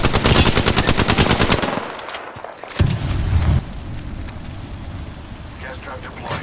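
Rapid automatic gunfire rattles loudly in Apex Legends, a sustained close burst that cuts off before a heavy impact, then distant shots and game voice lines over quieter background.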